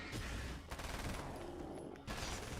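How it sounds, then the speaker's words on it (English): An SMG firing in the Alan Wake's American Nightmare video game, dense rapid bursts of gunfire filling the moment, with a short gap partway through before the shooting resumes. "Oh, I've got an SMG. I have an SMG."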